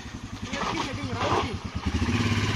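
Motorcycles on a group ride in Srinagar idle and rev nearby, their rapid low engine pulses thumping steadily and swelling in the middle, with voices underneath.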